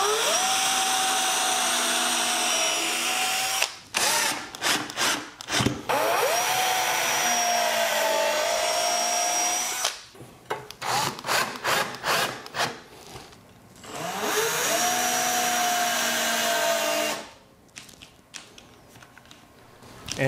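A cordless drill whirs in steady high-pitched runs, stopping and restarting three times with brief clattering pauses between bursts.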